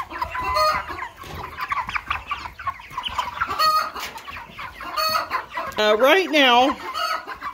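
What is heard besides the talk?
chickens clucking while being fed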